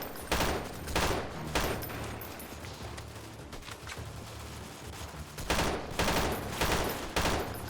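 Submachine gun fire in the video game S6 Freeman Guerrilla Warfare, several loud bursts of rapid shots spread across the clip with quieter battlefield noise between them.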